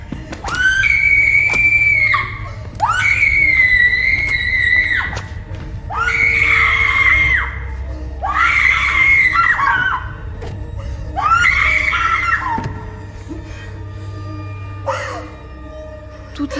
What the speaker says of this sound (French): Toute la violence du monde dans un cri.